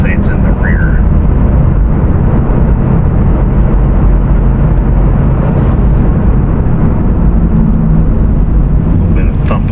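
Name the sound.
car driving with wheel bearing noise and thumping rotors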